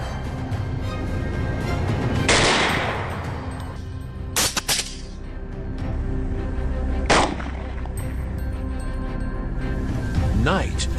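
Rifle gunshots during a wild boar hunt, a few sharp, loud reports spaced several seconds apart, with a quick double shot among them, over a steady background rumble and talk.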